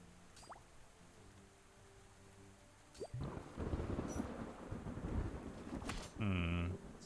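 Thunderstorm in the Unexplored 2 video game: a quiet stretch breaks into a loud rolling thunder crash with rain hiss, sustained rumbling, then a final heavy boom near the end.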